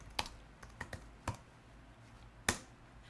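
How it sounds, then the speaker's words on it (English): Keys on a computer keyboard click as someone types a new task into a task manager: a handful of quiet, scattered taps with gaps between them and one sharper keystroke near the end, with no voice. "We can add new tasks by clicking in the top and typing in"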